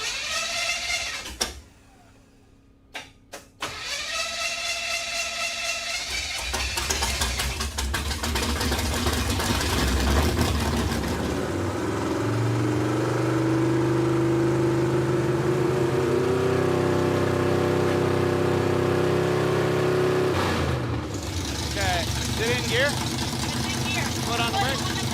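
A 1957 Chevrolet Bel Air V8 with a swapped carburetor cranks, catches and settles into a loud, rough idle that holds steadily before a brief blip near the end, with people talking over it at the start.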